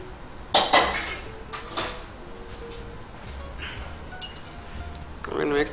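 Vegetables being stirred in a pan for a ramen stir fry, with scattered metallic clinks and scrapes of a utensil against cookware near the mic while a person talks over it.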